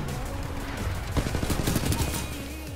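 Rapid gunfire from the CAR submachine gun in Titanfall 2, a quick burst of close, sharp shots over a constant game background rumble, with faint voices low in the mix.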